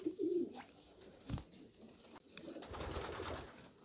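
A pigeon coos softly at the start, followed by faint rustling and fluttering sounds in a quiet space.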